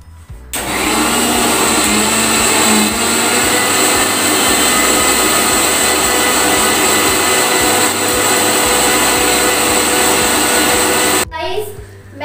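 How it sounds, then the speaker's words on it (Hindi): Kitchen mixer grinder whirring loudly and steadily as it grinds spinach with red chili, one continuous close-up run lasting most of the clip before it stops abruptly near the end. "तो इसको मैं मिक्सी में पीसेंगे।"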